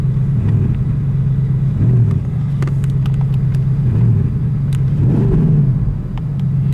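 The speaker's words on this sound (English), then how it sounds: "First, we're gonna do some revving here." A Porsche Panamera Turbo S E-Hybrid Sport Turismo engine idles with a deep rumble, then is revved in several short blips that swell and drop back, loud and close.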